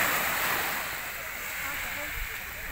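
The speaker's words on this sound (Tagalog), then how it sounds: "Ayan ang karagatan, kalmang-kalma" Calm sea on a sunny Italian beach at Squillace: a steady, soft wash of gentle surf with constant wind hiss over the microphone, fairly even and without distinct breaking waves.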